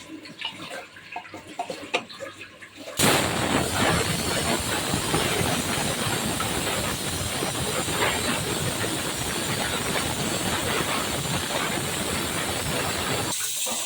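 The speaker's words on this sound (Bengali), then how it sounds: "পাশের চুলায় প্রেশার কুকারে ডাউল চচ্চড়ি বসিয়ে দিয়েছি" A pressure cooker of dal on a stove gives a loud, steady steam hiss that bursts in after a few seconds of quieter kitchen noise and holds for about ten seconds before cutting off.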